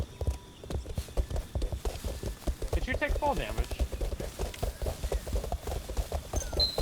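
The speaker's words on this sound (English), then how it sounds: "It sounds like horses. Yeah, it's like hoof sounds." Horse hooves clip-clopping in a video game while walking along a mountain edge, a steady rapid patter of several hoofbeats close behind, with people talking over it.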